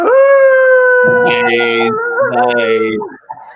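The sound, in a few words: person imitating a lone wolf howl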